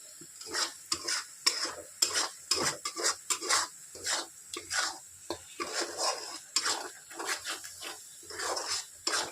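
Masala spices frying and being stirred in a pan for a chicken dish, scraping stirring strokes in a busy rhythm over a light sizzle, close by with no talk.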